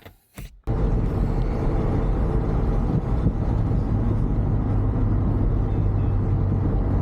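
A custom-built car on its first test drive gives a steady, loud, low road-and-engine rumble from inside the cabin, after a brief click and hush at the start.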